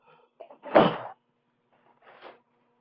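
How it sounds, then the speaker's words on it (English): A man coughs once, a short, harsh burst with a quieter follow-up, then a second softer cough about a second later, close to the microphone and surrounded by near silence. "I just had to cough up something real quick"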